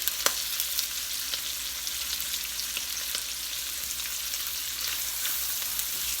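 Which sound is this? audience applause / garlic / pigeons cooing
garlic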